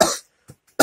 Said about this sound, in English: lovely coughing inside my helmet.